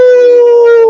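A human voice imitates foxes howling in a deep forest at night, one long sustained tonal howl held steadily and loudly throughout, with no other sounds.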